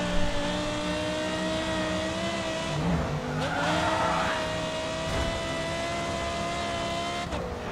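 A racing car in the Grid 2 video game holds a steady, loud engine drone, rising in pitch as it accelerates, with tire squeals and skidding around the middle before the revs settle again.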